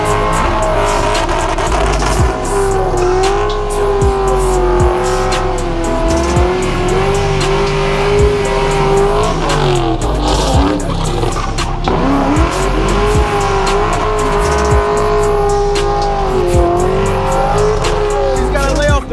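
A Ford Mustang engine revs loudly and continuously near the redline at night, rising and falling in pitch, with tires squealing as the car slides.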